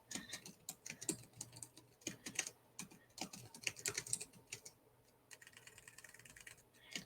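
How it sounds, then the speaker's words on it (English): Someone types a comment on a computer keyboard, making a quiet, close run of irregular clicking keystrokes with short pauses between bursts, and nobody speaks. "I'm going to go ahead and type a comment in the chats."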